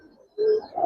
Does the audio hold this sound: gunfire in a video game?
no